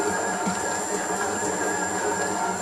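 A budget Cecotec stand mixer kneads dough with a steady, loud motor whir and a constant high whine, running alone without talk.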